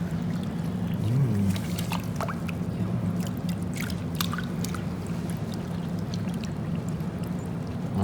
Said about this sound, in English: I'm just using my fingers here to kind of rinse it off and clean it here